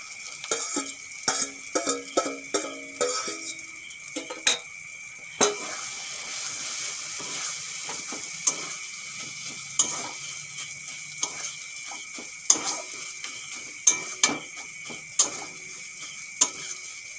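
Boiled chicken worked into sautéed spices in a hot pan, with repeated scraping and clacking strokes of a spoon over a soft sizzle, close and rhythmic, fairly faint, with no talking.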